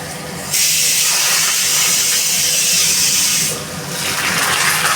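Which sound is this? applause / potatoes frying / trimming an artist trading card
potatoes frying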